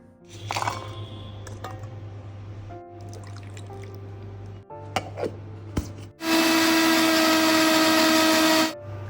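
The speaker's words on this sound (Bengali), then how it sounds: "এবার এটাকে আমি মিক্সিতে দিয়ে পেস্ট করে নেব" An electric mixer grinder whirs loudly and steadily for a few seconds as it grinds a spice paste, preceded by a low kitchen hum and scattered clatter of handling.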